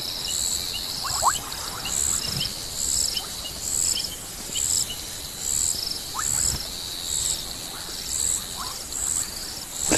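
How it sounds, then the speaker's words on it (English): Frogs call in bursts at a waterhole, with a pulsing chorus of insects throughout and occasional bird chirps in the distance. "Listen to these frogs."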